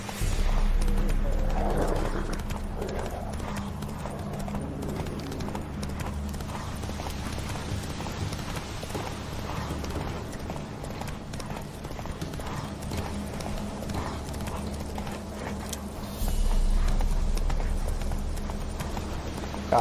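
A horse galloping in The Witcher 3, rapid rhythmic hoofbeats pounding steadily throughout with occasional snorts, while a player talks intermittently over the game sound.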